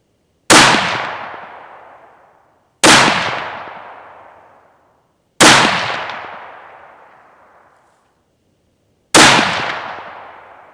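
Four sharp, loud rifle shots from a Savage 11 VT with a Bushnell scope crack out at an outdoor range, spaced a few seconds apart, each one followed by a long fading echo before silence.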